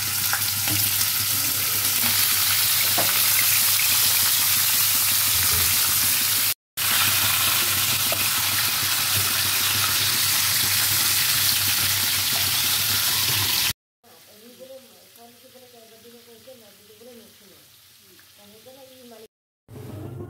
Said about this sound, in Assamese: মাছৰ মাথাখিনি ফ্ৰাই কৰা হৈ গ'ল অলপ লাইট ফ্ৰাই কৰিছোঁ